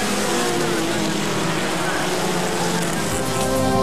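A race car at the Autodrome St-Eustache speedway roars with a steady, loud engine drone under continuous commentator talk and crowd noise.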